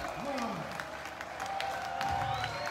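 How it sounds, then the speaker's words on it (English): Crowd applause and cheering at a death metal festival, steady clapping from a large audience mixed with shouts and some tonal ringing from the stage, lasting a few seconds at fairly even loudness. "Give them a hand of applause"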